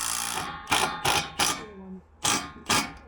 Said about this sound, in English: So start over there with the screws, sinking them all the way in.